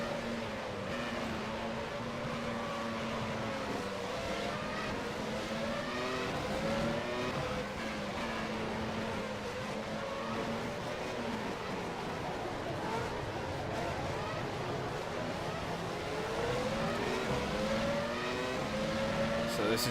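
Several 1996 Formula 1 cars race in the rFactor 2 sim, engines droning and shifting in pitch as cars pass and brake behind a Minardi, with a steady loud mix of overlapping engine notes and occasional tire noise.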